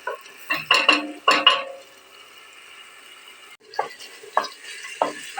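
Vegetables and potatoes are sautéed and stirred in a pot for a Turkish meatball soup, a spoon scraping and clattering against the metal in several loud bursts over a faint steady sizzle, with no talking.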